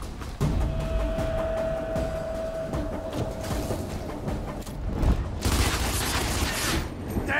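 Gunfire in the tactical video game Gears Tactics, a steady roar of rapid automatic bursts and heavy booms throughout, swelling into a louder barrage near the end.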